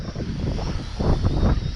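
An Amcrest Skyview Pro drone flies in high wind, its buzzing motors mixed with heavy, gusty wind buffeting on the microphone over a brief, loud stretch.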